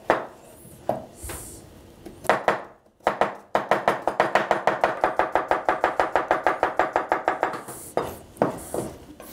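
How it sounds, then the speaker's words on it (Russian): Close, crisp knife strokes slicing cucumber into thin half-rings on a board: a few scattered cuts, then a long, even burst of quick rhythmic slicing, tapering into a few last chops. "Нарезаем тонкими полукольцами огурец."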